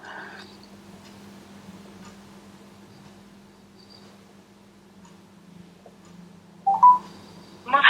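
A Rogbid Tank S3 smartwatch's dial pad gives two short, crisp keypad tones close to the end, after a long stretch of quiet low hum.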